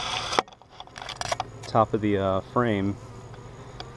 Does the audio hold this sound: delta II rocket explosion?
no